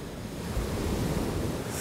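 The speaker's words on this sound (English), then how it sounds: "the sound of my voice and the sound of the waves" Lake Michigan waves wash against the shore in a steady, full roar of surf, mixed with wind buffeting the microphone, and no voice over it.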